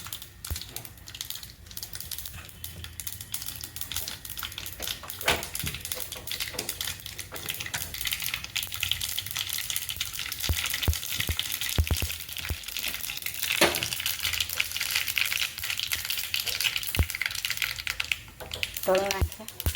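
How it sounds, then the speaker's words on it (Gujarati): Spices crackle and sizzle in hot oil while tempering for bottle gourd dhokla, a dense, steady frying hiss that runs almost without break. "જો હવે આપણે વઘાર કર્યો"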